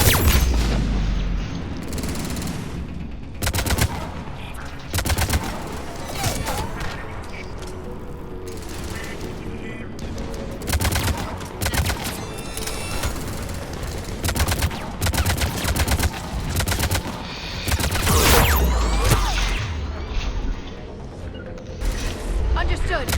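Enemy sniper fire in the game Mass Effect 3, with sharp repeated shots and booms cracking throughout amid other combat noise, loud and close, while a person talks over it.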